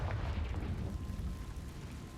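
A Confringo spell explodes in the video game Hogwarts Legacy, a loud rumbling fiery boom that rolls and slowly fades over about two seconds.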